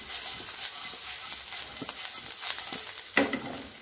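Siru kizhangu tubers fry with curry leaves and coriander in a pan, a moderate steady sizzle broken by a few soft stirring scrapes and one sharper knock near the end.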